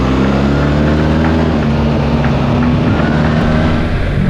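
BMW R 1300 GS Adventure (2025) motorcycle on semi-knobby tires, a loud continuous engine drone heard while riding, with steady wind rush and no talking.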